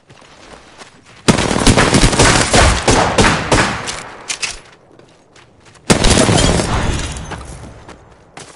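Bursts of automatic gunfire in a PS4 shooter game, loud rapid volleys lasting several seconds, a pause, then another sustained burst of firing.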